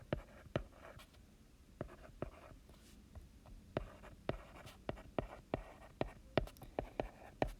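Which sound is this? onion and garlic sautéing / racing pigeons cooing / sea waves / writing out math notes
writing out math notes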